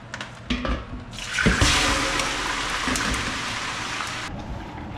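Venison and beef chunks hit a smoking hot pot and start browning, a sudden loud sizzle that swells into a steady crackling hiss, with a few clunks of meat and utensils, close up.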